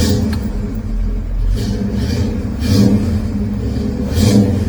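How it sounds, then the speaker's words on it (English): A cold 1965 Pontiac GTO engine runs with a loud, close, deep rumble, with repeated throttle blips swelling over the steady idle. "I'll go ahead and start the engine."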